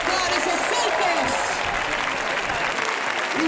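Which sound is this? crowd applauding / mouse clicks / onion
crowd applauding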